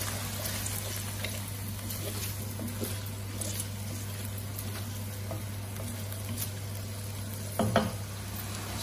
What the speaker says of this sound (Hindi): चिकन को 3 देर तक पकाएंगे जब तक इसका कलर चेंज नहीं हो जाता।